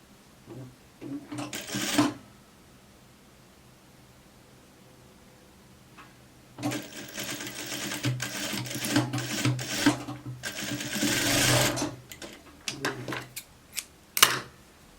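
Sewing machine stitching a beginner's raglan-sleeve coat, running in short bursts of rapid mechanical whirring with pauses between, the longest stretch of steady stitching near the middle and a quick final burst.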